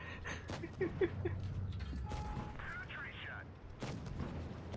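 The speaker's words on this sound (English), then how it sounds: "we hear some shots going into 405 now" Tank cannon fire in the mobile game World of Tanks Blitz, during a professional tournament match: a few sharp, booming shots spaced a second or two apart over continuous battle noise, with commentary voices running underneath.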